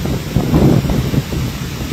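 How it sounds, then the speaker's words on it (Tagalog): Strong wind at a dam buffets the microphone in a continuous, loud rush with gusty swells, with no voices. "Malakas po ang hangin ngayon dito sa Bustos Dam."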